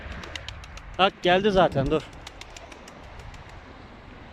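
Tumbler pigeons coo softly in the background while someone speaks briefly in the middle.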